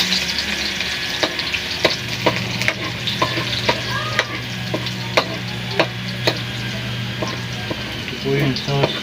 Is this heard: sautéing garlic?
yes